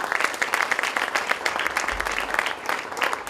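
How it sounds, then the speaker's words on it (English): Audience applause for students at a school event, a steady round of many hands clapping filling the whole stretch at moderate volume, with no talking over it. "one more round of applause for our students"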